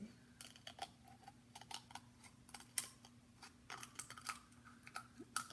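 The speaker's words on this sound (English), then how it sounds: "very carefully use your scissors to cut this egg in half" Quiet, irregular crisp snips and crunchy cracks sound up close as scissors cut a brittle eggshell in half lengthwise, with a faint steady hum beneath.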